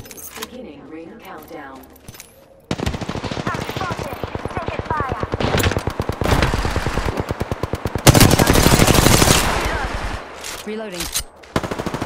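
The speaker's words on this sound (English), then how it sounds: "I'm getting shot at." Video game gunfire rattles in long rapid bursts, dense automatic fire that starts after a quieter opening and keeps going loud and close, with brief pauses between volleys.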